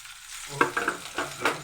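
Chopped onions fry in a hot pan with a steady sizzle, broken by several sharp scraping stirs of a spoon against the metal.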